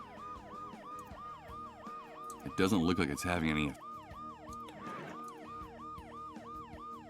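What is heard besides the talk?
ambulance siren in video game Dead Synchronicity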